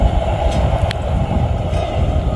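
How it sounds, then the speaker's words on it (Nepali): A train runs through open rice paddy fields in rural Korea, its steady rumble and rolling rail noise continuous and fairly loud throughout, with no voices. "यो उसको बीचमा ट्रेन आउँछ"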